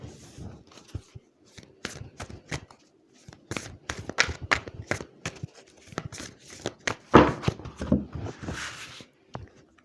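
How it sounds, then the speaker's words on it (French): Cards being handled and drawn from an oracle deck during a tarot-style reading, with close, crisp shuffling, slides and paper rustles in irregular bursts, louder toward the end, no speech. "On va aller prendre la deuxième carte."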